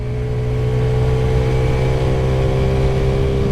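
A 2024 TVS Radeon 110cc motorcycle engine hums in a steady, loud, continuous drone as it pulls through its gears, with no voices over it.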